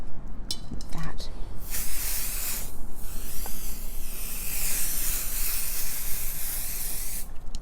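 A can of spray adhesive hisses in long, loud bursts while basting a quilt, the steady spray lasting several seconds after a few short clicks and taps.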